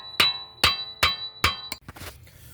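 Hammer strikes driving a right passenger-side control arm into place on a 2019 Infiniti QX60 3.5L, four loud, evenly spaced metallic blows with ringing tails, then a few quicker, lighter knocks and clatter.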